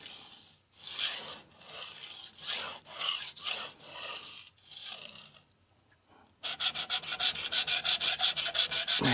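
A very hard knife is drawn across a hard whetstone in repeated rasping strokes, a rhythmic scraping that pauses briefly, then returns faster and brighter in quick regular passes, close and clear with no talking.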